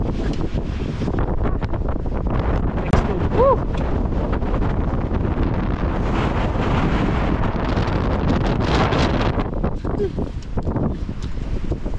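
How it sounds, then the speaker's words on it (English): Strong wind sweeps across a hiking trail on the Three Sisters, roaring and buffeting the microphone in a steady, loud rush while people speak briefly over it. "So windy."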